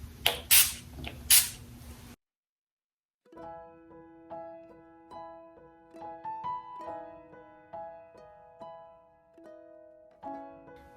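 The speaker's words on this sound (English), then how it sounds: "So I'm gonna just spray my brush." Two quick hissing bursts of a makeup setting spray onto a makeup brush, close and sharp, then a short silence before soft background music plays on.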